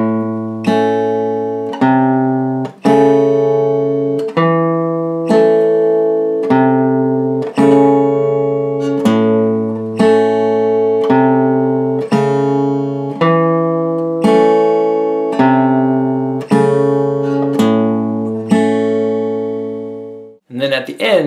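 Acoustic guitar slowly picking a riff, a steady pattern of clear plucked notes ringing into each other, close and loud, ending with a brief scrape near the close.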